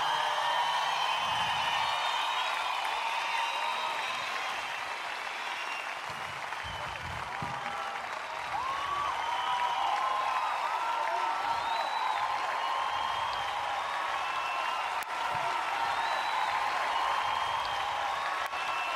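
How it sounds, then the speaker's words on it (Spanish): An outdoor festival audience at an Oeiras Cool Jazz Festival concert gives two musicians sustained applause, a thick, continuous patter of many hands with scattered cheers, steady for the whole stretch. "Un fortísimo aplauso para ellos dos"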